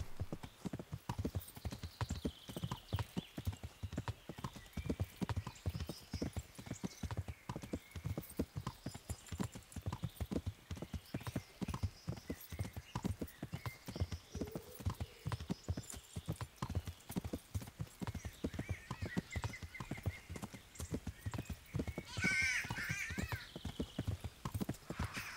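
Horse hooves clip-clop in a steady, loud, continuous rhythm throughout, walking over ground in Kingdom Come Deliverance, with a brief whinny near the end.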